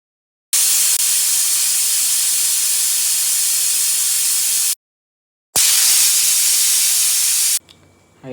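A pressure cooker cooking vegetable sambar vents steam in loud, sustained hissing blasts, two long bursts separated by a brief silence, ending in a fainter sputter.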